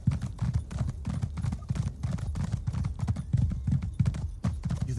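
Horse hooves clip-clop at a steady walking rhythm in Elder Scrolls Online, a dense run of close, even footfalls that continues throughout with no talking over it.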